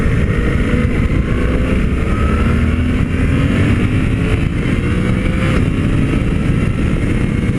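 A Suzuki V-Strom 800 motorcycle pulls away hard, its engine note loud and close, rising steadily through the rev range with continuous roar and rumble and no talking.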